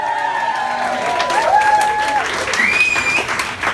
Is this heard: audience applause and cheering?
yes